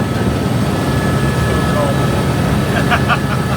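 A helicopter drones loudly and continuously over a large mine at a Red Bull dirt-bike event, its rotor noise filling the air as if passing close overhead, with faint voices beneath.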